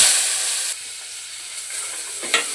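Onion and tomato fry in oil with mustard seeds, giving a steady, close sizzle and hiss with light stirring scrapes toward the end, with no talk.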